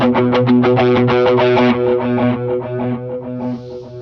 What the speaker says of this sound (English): I kick on the chorus just to give a little bit of a synth tone to that part.